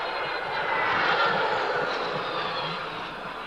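A BAE S211 jet passes over an air show at Wings Over The Illawarra, its engine a broad steady roar that swells and then slowly fades, with no talk.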